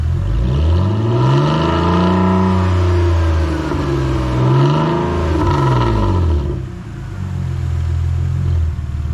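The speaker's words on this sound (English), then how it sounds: "Give it a rev, Oliver." A car engine with failing mounts revs up and down several times, deep rising and falling tones, close and loud, then settles toward idle.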